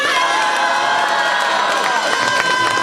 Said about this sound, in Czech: tak jim zatleskejte a provolejte hurá!